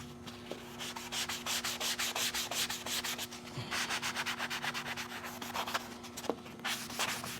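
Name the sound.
sanding car paint with a 150 grit sanding sponge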